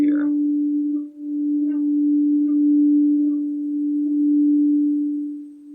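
A RAV steel tongue drum's ding note rings out at a higher octave, one struck tone sustaining steadily and close for several seconds with a soft swell and slight pulse, no voices present.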